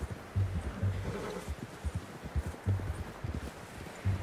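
Horse hooves clip-clop in a steady, moderately close rhythm through the Red Dead Redemption 2 game world, with soft rustling behind and no talking.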